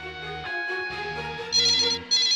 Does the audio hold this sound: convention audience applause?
no